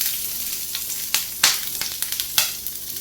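Chopped ginger, garlic and green chili sizzle in hot oil, giving a dense hiss that is broken by several sharp crackles and spatters as the pieces are stirred.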